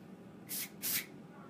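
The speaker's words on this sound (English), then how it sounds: "this you're going to spray into the roots just to give it like a little extra texture" Two short hissing bursts of hairspray, one right after the other, close and fairly loud against a quiet background.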